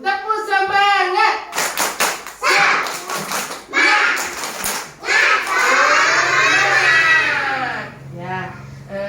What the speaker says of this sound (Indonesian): Aku tepuk semangat.